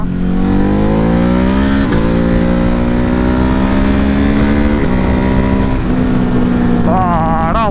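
A Ducati Hypermotard motorcycle accelerates hard on an open road toward top speed, its engine note climbing through gears with brief dips at each shift and a rising rev at the end, loud and close over constant wind rush.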